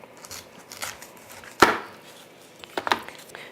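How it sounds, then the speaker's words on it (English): A knife chops through the top and bottom of a whole pineapple in a kitchen, giving one sharp, loud cut in the middle and a couple of smaller knocks near the end, with soft handling noise between. "So I take my knife and I just cut off the top and I cut off the bottom."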